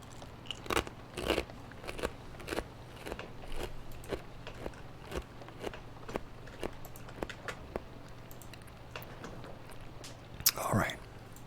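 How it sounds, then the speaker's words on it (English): Small pieces of tofu being chewed close to the mic, giving soft repeated bites and moist crunchy clicks in an uneven rhythm over a quiet background, with one louder crackle near the end. "you may hear me chewing on some small pieces of tofu"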